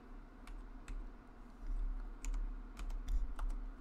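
Rapid clicks of typing on a computer keyboard come in short uneven bursts, close and fairly clear, with no talking.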